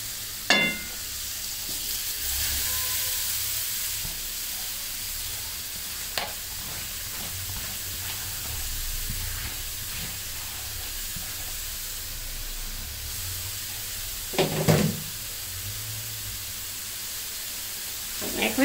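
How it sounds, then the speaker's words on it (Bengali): Grated carrot frying in ghee in a pan for carrot halwa, a steady soft sizzle and hiss throughout with occasional louder stirring scrapes, close and moderately quiet. "এখন এই গাজরটা দিয়ে তারপরে আমি ঘিয়ের সাথে প্রায় 4-5 মিনিটের মতন ভেজে নিব"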